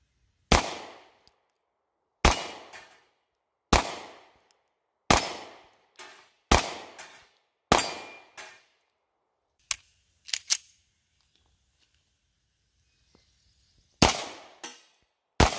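A Beretta Nano 9mm pistol fires seven sharp, loud shots at a steady pace of about one every second and a half. A few light clicks follow, then two more shots, with no speech.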